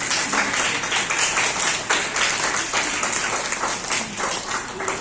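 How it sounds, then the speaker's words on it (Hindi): Loud, sustained audience applause for teachers at a Teachers' Day celebration, a dense wash of many hands clapping steadily throughout with no voices. "एक बार टीचरों के लिए भी बहुत जोरदार तालियां बजाएं।"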